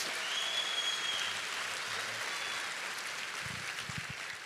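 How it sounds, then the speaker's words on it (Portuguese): Congregation applauding at a large evangelical church gathering, a broad steady wash of clapping heard from a distance, fairly faint, with a few low thuds toward the end. "Você pode dar aplausos a Jesus por isso?"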